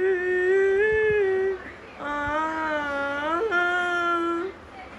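A baby cries in long, wavering wails in two drawn-out bursts, fairly close, with a faint background hum during a family shopping outing at a mall.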